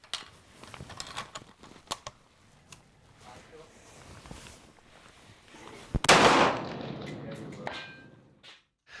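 A sharp single report from an In-Rut Kraken Trekker Light hunting rifle, loud and close, bursting out after a stretch of quieter talk and clicks, then a short ringing decay outdoors.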